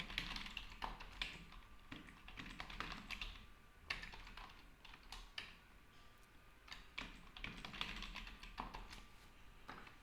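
Fingers type a password on a computer keyboard in quick, uneven bursts of light clicks, close and fairly quiet, with short pauses between groups of keystrokes.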